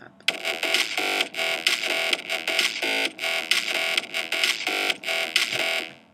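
Electro house beat made in Ableton, combining a synth bass line, kick drum and clap: loud, dense, buzzy bass stabs in a driving repeated pattern that continues steadily for several seconds, with no voice over it.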